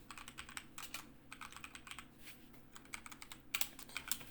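Quick bursts of clicking keystrokes on a computer keyboard while entering code, close and fairly quiet, in short rapid runs separated by brief pauses, with no talk.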